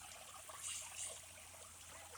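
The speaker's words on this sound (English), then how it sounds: "Water falls down again and over into the pond." A small waterfall trickles into a koi pond, a soft, steady hiss of falling water at a distance with no voices over it.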